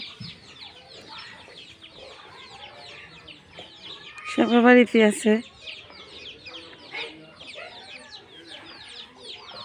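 Domestic chickens cluck in a village yard alongside ducks, with one louder burst of clucking rising near the middle over steady background sounds and people talking.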